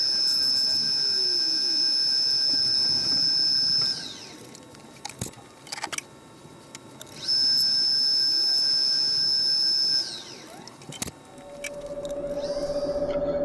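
A lathe spins a cherry wood serving bowl while its bottom is sanded, giving a loud, steady high whine that runs for a few seconds and stops, then returns. Short knocks and quieter stretches fall between the runs.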